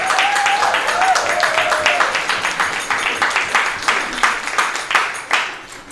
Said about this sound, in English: I'd like to offer a round of applause for the long list.